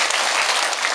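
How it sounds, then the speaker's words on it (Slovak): A crowd claps steadily through a brief stretch, a dense and even wash of applause at moderate distance with no voices over it. "A potlesk."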